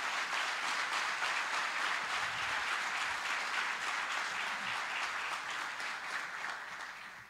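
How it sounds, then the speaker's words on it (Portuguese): Sustained applause from a large audience at a Grêmio club council gathering, dense steady clapping filling the whole stretch, fading slightly toward the end. "A esses eu peço uma salva de palmas."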